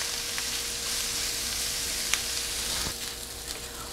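Short grain rice fries and is stirred in oil in a pan with onion, a steady, even sizzle with occasional soft scrapes and clicks from the spoon, close and alone without talk.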